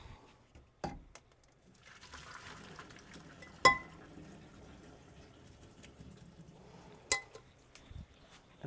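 Boiled macaroni being drained from a pot: a soft stream of pouring water with scattered metallic clinks and knocks of pan and colander, close and fairly quiet, with no voices.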